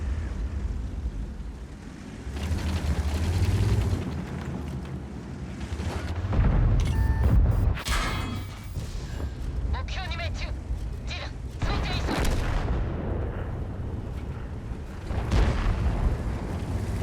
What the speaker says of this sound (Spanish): El E100 ya disparó.